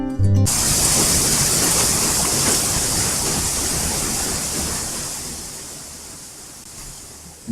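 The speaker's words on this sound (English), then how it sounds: "The roaring river ran north to south through the mystic forest and powered the brown wooden mill wheel." A roaring river in a forest rushes as a dense, broad hiss of whirling water, loud at first and slowly fading over several seconds, with no voices.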